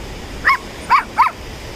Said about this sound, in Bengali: এখানে তো একটা ছোট্ট কুকুরছানা দেখা যাচ্ছে।